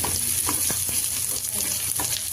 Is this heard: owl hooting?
no